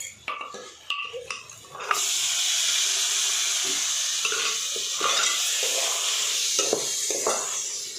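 Dal is poured into red, well-roasted masala in a hot pan, setting off a loud continuous sizzle and hiss after a few scraping and stirring clinks. The stirring goes on over the steady frying, close up, with no talking.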